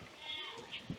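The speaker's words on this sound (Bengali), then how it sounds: "এখন ছাগল নিয়ে আসতেছে" Goats being led along a village path bleat in a few short, close bursts near the end, over a low background murmur.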